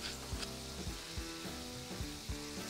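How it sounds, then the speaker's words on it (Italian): Garlic cloves and chopped rosemary fry in a pan for pumpkin lasagne, a steady close sizzle with a few soft stirring knocks through it and no voices. "Faccio soffriggere 3 spicchi d'aglio e del rosmarino tritato."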